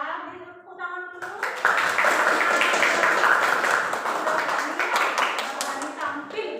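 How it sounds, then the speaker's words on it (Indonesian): Classroom full of children clapping hands together in a sustained burst of applause, loud and close, with a teacher's voice briefly speaking at the start and end. "Tepuk tangan dulu."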